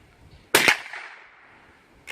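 A single sharp .22 rifle gunshot fires with a crisp crack and short ringing decay, alone in an outdoor quiet; standard .22 ammunition through a squeeze-bore barrel.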